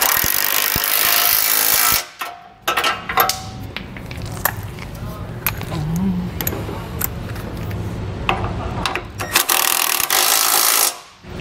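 Bolts for a Curt trailer hitch receiver are tightened on a 2012 Subaru Outback, with loud, sustained mechanical whirring bursts at the start and end and quieter ratcheting and clanks between.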